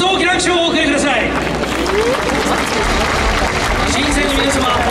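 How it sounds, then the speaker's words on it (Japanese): A large crowd at the award results ceremony of the 2018 Nippon Domannaka Festival applauds in a continuous, loud wash of clapping, with an announcer's voice running over it early on. "それではご登壇されました皆様方にどうぞ大きな拍手をお送りください。"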